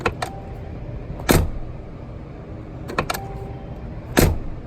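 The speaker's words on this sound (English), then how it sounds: "This car has one of the great door latch sounds in the entire car industry" 2019 Mercedes G-Class doors shutting, two sharp solid latch clicks about three seconds apart, each preceded by faint handle and mechanism clicks, close and clear over low ambient hum.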